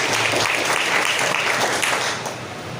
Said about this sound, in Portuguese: vamos abrir palmas para nossas irmãs